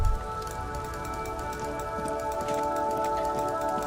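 Steady rain falling in the Disco Elysium video game, a continuous even hiss that holds at a constant level throughout with a faint musical hum beneath it and no talk.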